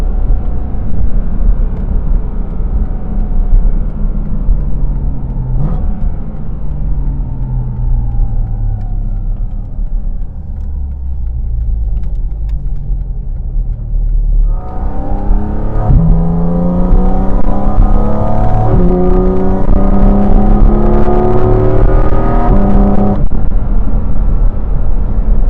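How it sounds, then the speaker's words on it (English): A 2023 Porsche 718 Cayman GT4 RS heard from inside while driving, engine induction rising and falling through several gears, then surging into a loud, high-revving pull with stepped shifts. "That induction sound is fantastic."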